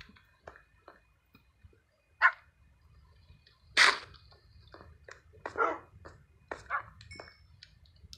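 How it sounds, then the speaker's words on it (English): Tamed wolves in Minecraft give a few scattered barks and yips at moderate volume over quiet game ambience, with irregular gaps between them. "Okay, I guess we got a ton more dogs."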